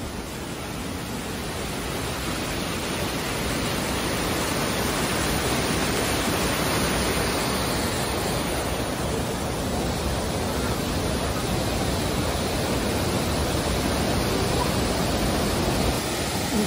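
A wide waterfall pours steadily, its broad, even roar of rushing water holding a constant level throughout with no voices or breaks.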